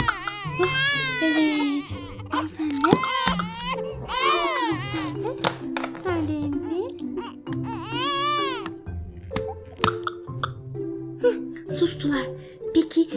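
Cry Babies toy dolls wail and sob in repeated high, warbling bursts with hiccuping breaks. The crying is loud and close, continuous across the whole stretch, with a low steady hum underneath.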